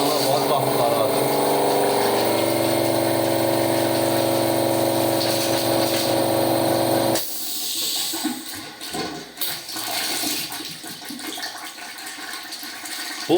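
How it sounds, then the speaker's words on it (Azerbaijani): Compressor-driven flushing apparatus forcing water and air through a car radiator, a loud steady hiss and rush of water that breaks midway into sputtering, gurgling bursts as air and water surge through. "kompresor bütün oynadır, radiatorun dibindəkiləri təmiz oynadıb gətirir"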